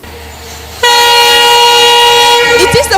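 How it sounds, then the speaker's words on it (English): At a busy train station in the Federal Capital Territory, a train horn suddenly blares a loud, sustained tonal blast close by over station background noise, followed by squealing and clattering rail sounds as it fades. "witnessed activities at the train station here at the Federal Capital Territory"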